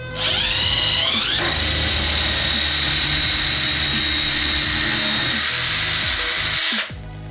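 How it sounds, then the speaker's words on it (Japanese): A power drill bores holes at screw positions in 2x4 wood. It spins up with a rising whine, holds a loud, steady grinding drone for about six seconds, then cuts off abruptly. "まずビスの位置に穴を開けます。"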